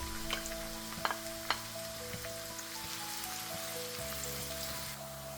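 Onion lightly frying alongside silver whiting fish in a pan, a soft steady crackling sizzle with a few faint clicks of a utensil, quiet and close with a low hum beneath.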